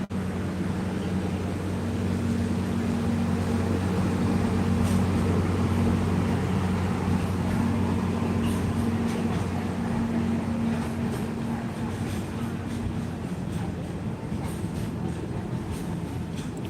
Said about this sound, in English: There is a train a-coming.